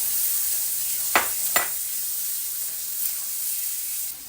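Mixed vegetables with white onion sizzle steadily in a hot pan, a constant frying hiss broken by two sharp stirring clacks near the middle.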